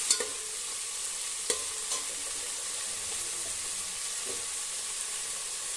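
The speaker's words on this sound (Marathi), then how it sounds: "हा मसाला तर चांगला आपण भाजून घेऊया तेलामध्ये" Masala roasting in hot oil while being stirred, for a spicy village-style chicken curry; a steady soft sizzle with a few scattered sharp clicks of the spoon against the pan, close and with no talking.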